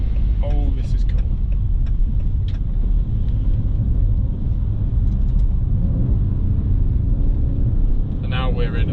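A Maserati GranTurismo with a V6 engine, driven on a road, its steady engine rumble and road noise droning loudly and continuously inside the cabin, with a person talking over it and a few brief higher chirps.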